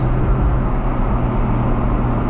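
A Chevrolet car's engine runs at a dealership, a loud, steady low rumble close by with no clear start, continuous and unbroken throughout.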